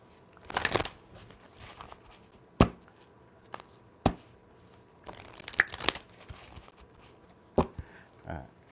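Tarot cards being shuffled in short crisp bursts of riffling and snapping, with quiet gaps between them and faint background speech.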